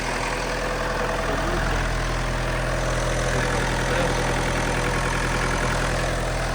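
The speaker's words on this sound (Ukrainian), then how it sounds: "Так, працює двигун" A Mitsubishi L200 pickup from 2013 with a 2.5 DI-D diesel engine runs at a steady idle, loud and continuous, with an even low rumble and no talking over it.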